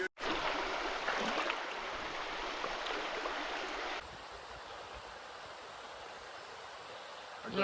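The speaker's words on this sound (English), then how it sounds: "So here's the river that we have to ford" River rushing past an Appalachian Trail ford, a loud, steady broadband whoosh of flowing water heard close by, easing slightly partway through.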